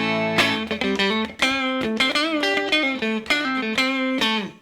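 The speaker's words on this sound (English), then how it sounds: "And then we've got that kind of deep neck pickup type sound." A clean electric guitar on its neck pickup picks a melodic phrase with a warm, deep, rounded tone, notes ringing into each other, played alone; an Enya Inspire smart guitar.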